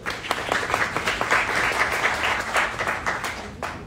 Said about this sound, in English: Give a warm applause to Gjalt Jan.